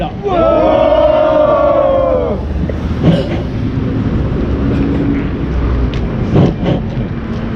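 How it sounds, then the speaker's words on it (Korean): At an outdoor civic rally, a crowd lets out a loud cheering shout of encouragement that lasts about two seconds, followed by lingering crowd noise and scattered sounds. "우리 모두 힘찬 격려의 함성을 부탁드립니다"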